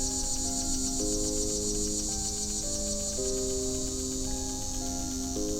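Cicadas chirp outdoors in a steady, shrill, continuous drone that runs the whole time, with soft sustained tones underneath.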